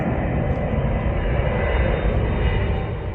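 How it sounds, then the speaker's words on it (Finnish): A passenger airplane passes low overhead while coming in to land at Rovaniemi airport, a loud steady roaring rush that fades slightly at the very end. "Nyt tulee lentokone."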